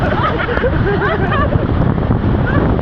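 Loud rushing surf and wind noise fill the scene at a Boracay beach, with strong waves churning close by and faint excited voices underneath.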